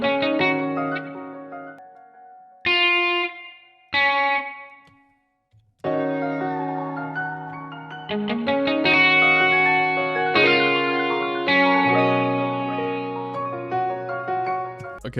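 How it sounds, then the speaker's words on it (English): A simple guitar melody from the Strawberry Evolution sample bank, processed with chorus, reverb and echo-style effects, plays in a loop-making session: a few separate plucked phrases with gaps, then a fuller, continuous line of sustained notes. "add a little guitar, something real simple, using, this is the Strawberry Evolution bank"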